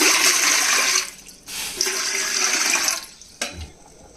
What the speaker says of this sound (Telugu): ఇందులో ఫస్ట్ నీళ్ళు పోసేసి స్టవ్ మీద పెట్టేయాలన్నమాట